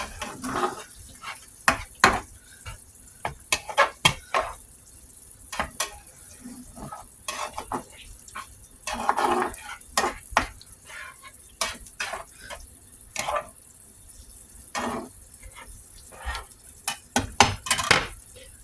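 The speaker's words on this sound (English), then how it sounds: "gonna mix this up real quick, and then we can put in the noodles" Spaghetti sauce being stirred in a pan, with irregular close clinks and scrapes of a utensil against the metal over a low background, in bursts throughout.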